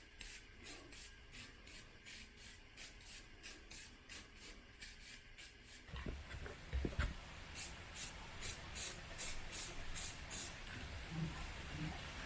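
Rust-Oleum protective coating sprayed from an aerosol can onto steel rock sliders for a 5th Gen 4Runner, short rhythmic hissing bursts in repeated pulses, then a denser run of spray bursts with some handling clatter.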